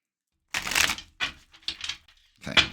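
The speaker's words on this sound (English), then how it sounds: "Shuffle that again." Tarot cards being shuffled in several quick bursts of papery riffling and slapping, close and fairly soft, separated by short silences.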